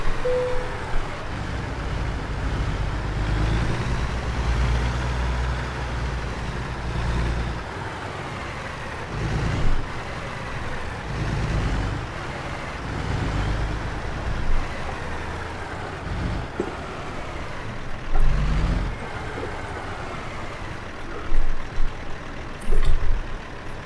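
Truck with trailer driving in American Truck Simulator, a continuous low diesel engine rumble with rising and falling revs and occasional louder thumps and hisses while maneuvering.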